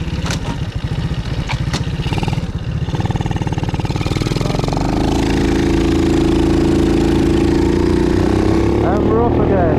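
A Honda C90 motorcycle used as a daily rider runs loud and close, its single-cylinder engine chugging steadily and then rising into a sustained higher drone as it pulls away.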